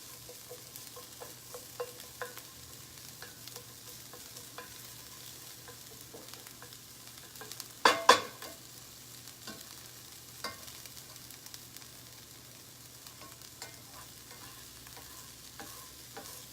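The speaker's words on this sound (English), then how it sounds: "we're going to stir in the squash" Squash is stirred into a cooking pan over a soft, low sizzle. Scattered light scrapes sound throughout, with one louder clatter of utensil against pan midway.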